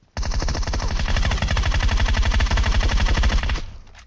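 Sustained automatic gunfire from PUBG Metro Royale, a rapid, loud, continuous burst of shots lasting several seconds before cutting off abruptly, with no talking over it.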